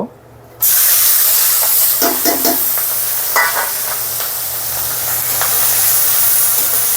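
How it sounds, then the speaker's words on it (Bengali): Chopped onions and green chillies hit hot oil in a pan where pangas fish has been frying, setting off a loud, steady sizzle that hisses on continuously, with brief clatters of stirring. "এবার কুচিয়ে রাখা পেঁয়াজ মরিচ দিয়ে দিব।"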